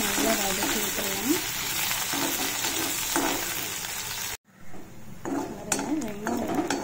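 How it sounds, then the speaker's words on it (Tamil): Four small onions sautéing in a pan, a steady sizzle broken by metal spoon scrapes and clinks against the pan, with a brief dropout midway before the frying resumes. "ஒரு நாலு சின்ன வெங்காயம் போட்டு நல்ல பட்டு நல்லா வதக்கி விட்டுருவோம்."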